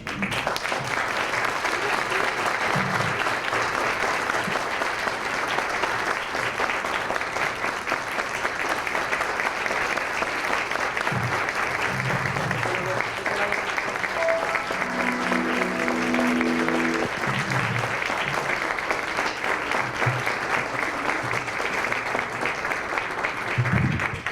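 Sustained audience applause at an award ceremony, steady and dense throughout with a few faint voices and brief tones underneath.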